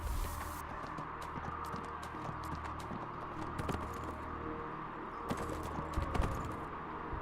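A horse's hooves clip-clop in the video game Neverwinter, with steady rhythmic hoofbeats at a quiet level throughout and occasional sharper clicks.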